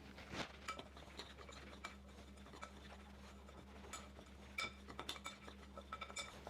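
A utensil scrapes and clinks around a bowl of apple crisp topping, with light repeated scratches and taps close by over a steady background hum.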